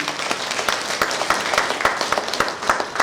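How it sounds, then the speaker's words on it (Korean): Steady, dense applause from an audience at a book-launch talk concert, many hands clapping continuously and fairly close for a few seconds with no talk over it. "다시 한번 큰 박수 부탁드립니다."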